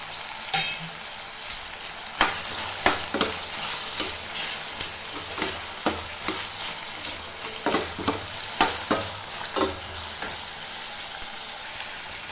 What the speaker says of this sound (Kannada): ಎಣ್ಣೆಯಲ್ಲಿ ಚೆನ್ನಾಗಿ ಫ್ರೈ ಆಗಬೇಕು ಫ್ರೆಂಡ್ಸ್ ಈರುಳ್ಳಿ ಟೊಮೊಟೊ